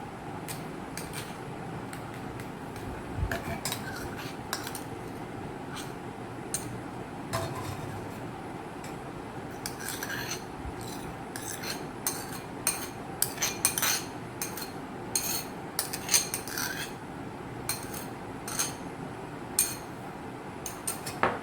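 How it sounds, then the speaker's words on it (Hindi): Cream (malai) being whisked for dal makhani, with a soft, steady stream of light metallic clinks and ticks from a utensil against a bowl, quiet and close, with no talking. "इस मलाई को हमें अच्छे से फेंट लेना है"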